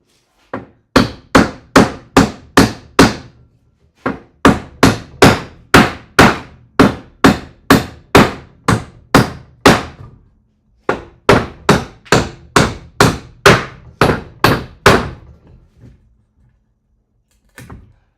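A hammer strikes small pieces flat while gondola station models are built. The sharp, close blows come in fast, steady runs of a dozen or more, with brief pauses between the runs.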